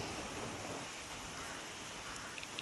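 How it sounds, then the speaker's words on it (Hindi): Heavy rain falls outside near a forested area, a soft, even, continuous hiss heard from a distance, fairly faint and with no voices. "बाहर से बारिश हो रही है, बहुत ज़्यादा बारिश हो रही है।"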